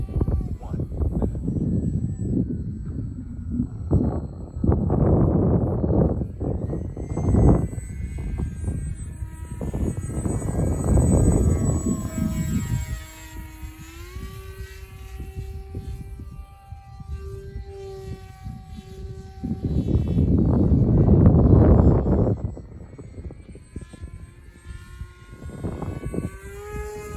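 A model airplane's electric motor runs under power, its whine rising and falling in pitch as the throttle changes, with louder bursts of noise in between.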